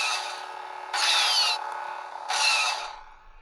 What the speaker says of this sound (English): If I press the button, the cane will flash and we'll get a deflection sound effect.